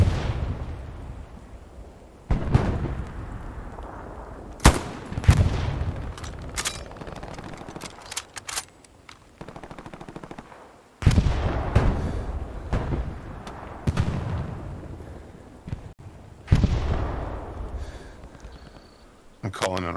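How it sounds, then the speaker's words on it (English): Artillery barrage in the video game Hell Let Loose, a series of heavy booming shell impacts landing every few seconds with rumbling tails, interspersed with sharper crackling blasts, while players talk. "Calling an artillery on that mark, it's pounding the shit out of him"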